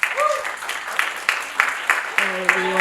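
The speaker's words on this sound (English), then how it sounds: "If you guys could just give a round of applause to our founder." A commemoration event crowd honors its founder with slow, rhythmic clapping in evenly spaced bursts, while voices call out and hum over the beat.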